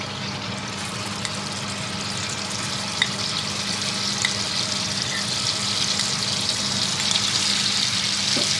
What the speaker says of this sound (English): now we're going to work quickly and we're going to put our ginger and garlic paste in